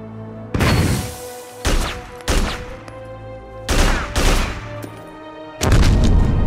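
Mines exploding in the video game Haze while driving, a series of about six loud, sharp blasts spaced irregularly, each with a brief rumbling tail, with steady game ambience between.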